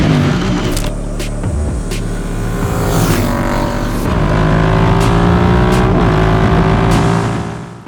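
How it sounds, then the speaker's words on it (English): Royal Enfield Interceptor 650 Scrambler being ridden, its parallel-twin engine and exhaust thrumming loudly and close, rising and falling through gear changes with short clicks, steady drone to the end. "That engine, that exhaust note, even after all of these years, continue to blow me away."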